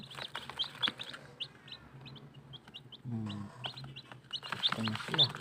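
Chickens of white leghorn, Rhode Island Red and Chinese breeds cluck nearby alongside high, sharp peeps from newly hatched chicks, repeated in bursts, with someone talking between them.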